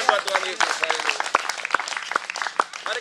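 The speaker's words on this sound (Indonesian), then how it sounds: "Tepuk tangan buat Tuhan Yesus." A church congregation claps at a Pentecostal GPdI Sunday service, with loose, scattered individual claps. Voices and talk continue underneath the clapping throughout.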